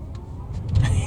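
A three-row electric SUV, a Rivian R1S or Kia EV9, launching from 0 to 60, heard as a steady low road and motor hum that swells toward the end, close inside the cabin, with no clear talking.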